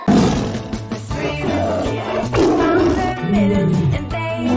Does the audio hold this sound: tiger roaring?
yes